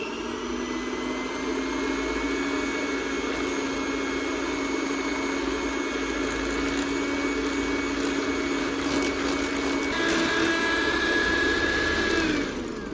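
Electric stand mixer whipping eggs and sugar for fudgy brownie batter, a steady motor whine with shifting pitch running continuously and fairly loud throughout, no talking over it.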